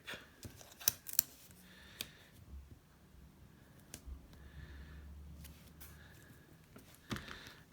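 Scissors trim micropore tape along the edge of a paper envelope, making a few quiet, close snips and clicks spaced irregularly over a faint background, with no talking.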